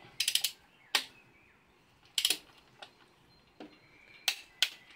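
Ratchet wrench torquing engine bolts on an Audi A3 TDI 130 ASZ engine being restored: sharp, close clicking bursts in short strokes separated by pauses, with fainter single ticks between and no voices.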